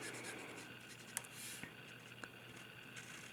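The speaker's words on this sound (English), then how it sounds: "we're just going to color all around to the edge of the stitching of the die cut" A marker colors yellow die-cut cardstock out to the stitched edge, giving faint scratchy strokes with a few small taps against a low steady hum.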